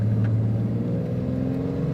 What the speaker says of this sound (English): As we take it to drag strip alley and step on the gas